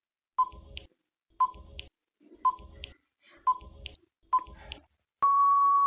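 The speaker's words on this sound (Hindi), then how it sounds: "चलो टाइमर स्टार्ट करते हैं।" A countdown timer gives five evenly spaced short beeps about a second apart, each with a faint ticking tail, then ends on one long, steady, loud tone.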